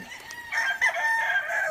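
A young Gilmore gamecock stag crows once on a farm, a loud, close, drawn-out call rising in the middle and holding to the end, with no talking.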